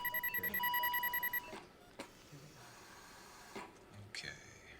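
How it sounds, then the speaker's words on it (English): A rapid electronic alarm beeps in a quick repeating pattern for about a second and a half in a hospital scene, then stops, followed by quiet room sounds and a few faint clicks and movements. "Kill that alarm."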